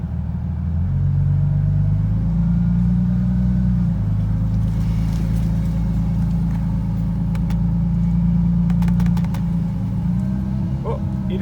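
A 2JZ-swapped GR86 with an automatic transmission idles loudly and steadily, its deep engine drone shifting pitch in a few distinct steps as gears change, with light clicks near the end.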